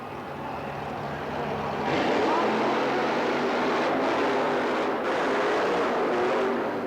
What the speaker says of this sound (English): The two fastest trucks on the premises go head-to-head for the championship